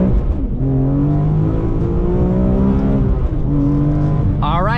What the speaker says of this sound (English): behind the wheel of the E46 M3, and this thing is absolutely epic. Listen to how this sounds.